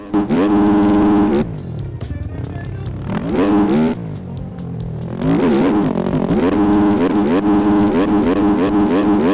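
Motocross bike engine in the MX Bikes video game, loud buzzing revs rising and falling as the rider works through a lap, with pitch sweeps on each throttle change and one quieter dip in the middle.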